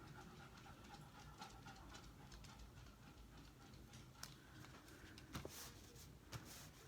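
A dog pants loudly and steadily nearby, with rhythmic breathy huffs running throughout, joined by a few sharp clicks and taps from an indoor paper-bag craft session.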